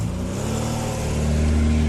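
A police car drives up toward a motel, its engine a steady mid-pitched hum that swells slightly as it approaches, close and continuous with no voices.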